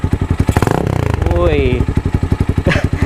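A loud, close Motorstar Z200S motorcycle engine with an open 51mm big-elbow exhaust thumps at idle, then revs sharply with a harsh roar before dropping back to a rapid, uneven putter; a voice briefly exclaims.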